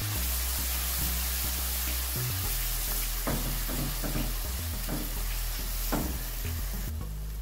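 Tomato paste masala with turmeric sizzles steadily in a pan for a Pakistani potato and egg curry, with a continuous loud frying hiss and scraping stirs breaking through it at intervals. No one speaks.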